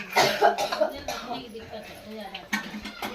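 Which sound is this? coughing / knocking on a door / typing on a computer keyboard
coughing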